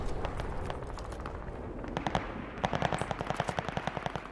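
Rapid gunfire in Call of Duty Vanguard, a steady run of close, sharp shots that grows louder and more distinct toward the end, over a busy game background.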